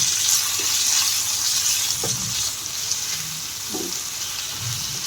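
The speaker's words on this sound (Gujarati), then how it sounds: "તો આને સારી રીતે સાતળવાનું છે" Grated bottle gourd sambharo with turmeric and salt sautés in a pan, a steady close sizzle with occasional soft stirring scrapes and clinks.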